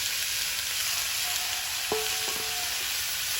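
Tiger prawns fry in a pan among yardlong beans and other vegetables with a steady, close sizzle, broken midway by a few light metallic clinks of a utensil.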